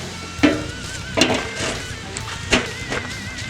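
A hunk of beef rib sizzles on the grate of a UDS smoker, with a few sharp crackling bursts over a steady, moderately close hiss and faint metallic clinks.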